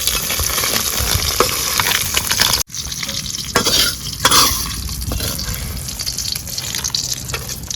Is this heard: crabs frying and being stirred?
yes